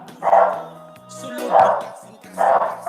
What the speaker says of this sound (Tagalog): Ang ingay ng aso namin, guys.